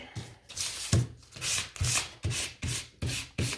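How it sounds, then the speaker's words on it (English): Rhythmic hand sanding of small wooden toy truck parts, about eight quick scratchy strokes close by in an even back-and-forth pattern. "Give them a sand."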